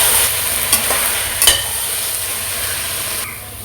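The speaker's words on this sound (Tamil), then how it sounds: "இதையும் கொஞ்சம் நல்லா இந்த பேஸ்டோடு சேர்த்து வதக்கிக்கலாம்" Mushrooms stir and sauté in a hot pan of tomato paste, a loud, steady sizzle with a few sharp spoon clinks against the pan, close and continuous.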